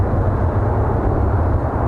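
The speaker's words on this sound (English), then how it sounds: "We have ignition and we have liftoff." Space shuttle rocket engines at liftoff, a dense, loud, low roar that holds steady and unbroken throughout.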